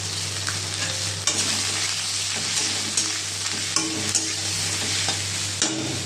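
Snake gourd sizzles steadily as it fries in a hot wok with dried red chillies and turmeric, under occasional stirring scrapes and clinks of a spatula against the pan.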